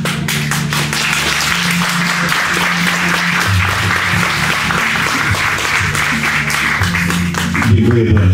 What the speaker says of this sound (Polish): Dziękuję bardzo za te brawa.